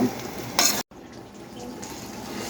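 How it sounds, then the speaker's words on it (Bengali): Clatter of a utensil stirring boiled chickpeas in a pan with a soft sizzle underneath, a brief louder scrape early on, then steady low frying noise. "এখন আমি এটাকে ভাজা ভাজা করে নিব।"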